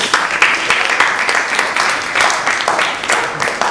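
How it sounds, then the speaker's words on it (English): A round of applause from an audience at a Sunday feast gathering, steady dense clapping that carries through without letup, loud and close, with some voices mixed in. "Please give them a big round of applause."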